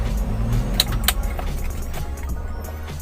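A car with a faulty idle control actuator idles roughly with a low, uneven hum, while key jingles and clicks mark the engine being switched off.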